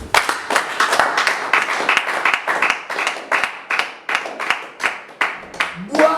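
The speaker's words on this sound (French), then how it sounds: "On acclame le Seigneur." A congregation at a French-language church service bursts into rhythmic clapping and applause, steady beats repeating through the whole stretch, with a voice rising briefly at the end.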